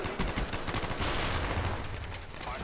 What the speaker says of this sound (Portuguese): Comecei a tomar tiro da pedra.